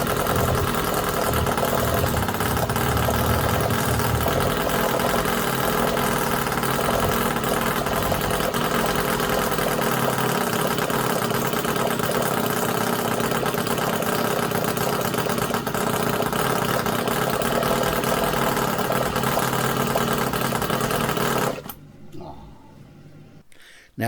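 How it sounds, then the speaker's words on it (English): A tiny 1/5 scale Harley Davidson V-twin petrol engine idles steadily with a fast, even mechanical chatter and vibration for over twenty seconds, close and loud, then cuts off near the end. "Now, this little engine, once tuned, purrs just like its big brothers."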